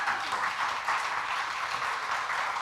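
An audience applauds Francisco Garcia at a community gathering about drought, a dense, continuous wash of many hands clapping at moderate distance, steady throughout with no voices over it.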